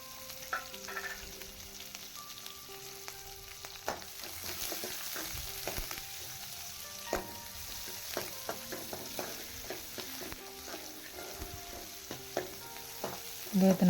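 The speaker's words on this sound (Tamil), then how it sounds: "வெங்காயம் நல்லா வணங்கணும்." Oil sizzles steadily in a pan as a large onion fries for a chickpea curry, with occasional clinks and scraping of a spoon stirring it.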